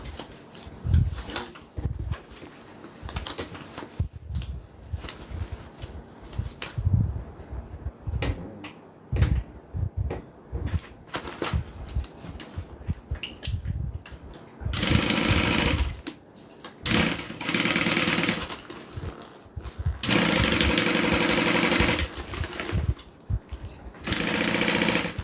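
A sewing machine stitches the interior and exterior of a bag together in runs of fast, steady mechanical whirring, broken by pauses filled with quieter handling and clunks of fabric and machine parts.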